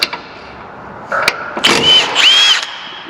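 A power tool whirs in short bursts, rising and falling in pitch, as a 17 mm bolt is backed out of the factory recovery point on a Toyota Tacoma, loud and close with no talking.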